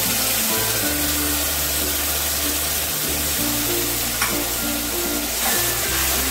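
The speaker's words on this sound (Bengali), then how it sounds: "দিয়ে ভালো করে নাড়াচাড়া করবো যতক্ষণ না তেল রিলিজ করে" A paste of ginger, garlic, green chili and tomato sizzles and fries in oil while being stirred for a fish-head moong dal, a loud, continuous close-up hiss with a few faint clinks.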